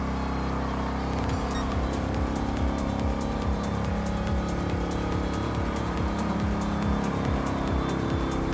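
A Pontiac Firebird Trans Am muscle car races in Gran Turismo Sport. A continuous loud engine roar rises and falls through repeated gear changes, with bursts of tire squeal through the corners.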